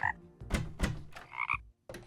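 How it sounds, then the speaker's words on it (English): Frogs croak in the video game Terraria, a few loud close croaks in uneven bursts with brief pauses and no talking over them. "this one I guess will produce frogs. Yes, of course it does. 3 frogs"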